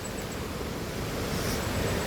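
A waterfall in West Africa roars as a continuous broadband rush of falling water, loud and close, with a wind-like hiss and no voices.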